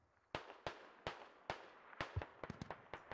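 Rockets fired in a squad-based military video game, a salvo of sharp launches at a steady rhythm that speeds into a quicker, denser cluster toward the end, fairly faint overall.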